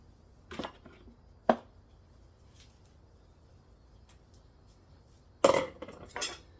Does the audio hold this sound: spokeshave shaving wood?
no